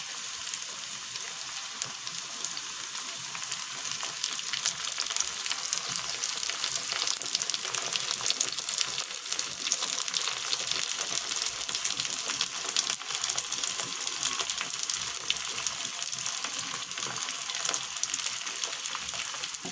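Onions and tomatoes frying in a pan for homemade pizza sauce, a continuous even hiss and crackle, moderately quiet and steady throughout with no voices.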